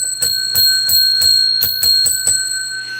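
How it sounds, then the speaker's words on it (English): Small bell rung ten times in quick, even succession, each bright metallic ding ringing out clearly and alone with a lingering tone between strikes. "I'm going to ring the bell 10 times, one time for each 10 thumbs up."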